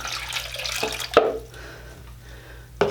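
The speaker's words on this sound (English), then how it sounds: "So I'm just gonna go ahead and pour some water in here." Water pours steadily into a film developing tank during a color film rinse. The trickle and splash run continuously at close range, broken by a couple of sharp knocks against the tank.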